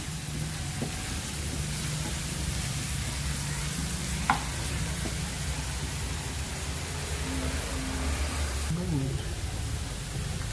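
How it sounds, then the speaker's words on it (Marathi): Onions frying with salt in a pan for prawn masala gravy, a steady loud sizzle running throughout with a few faint spoon scrapes and taps while stirring. "कांदा छान फ्राय झालेला आहे"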